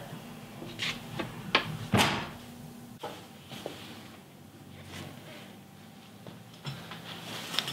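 A JCR Shield tire carrier swings out together with the door of a Jeep TJ, giving knocks, a creaking movement and a sharp clunk, then quieter rattles against outdoor background noise.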